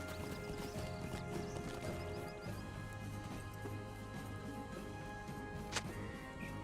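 Hooves of a horse mount in the video game Lord of the Rings Online, quiet rhythmic clip-clop under a humming game soundscape with music.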